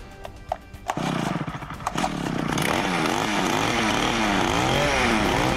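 A petrol-powered Cramo earth auger coughs through a few start pulls, then catches and its two-stroke engine revs loudly and steadily, rising and falling in pitch close by.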